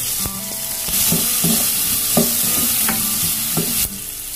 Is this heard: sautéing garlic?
yes